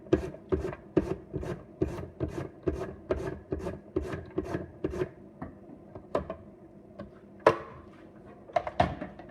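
Food rubbed by hand against a metal grater in a home kitchen, a series of close, rhythmic rasping strokes at a steady pace, briefly pausing then resuming with a few scattered scrapes.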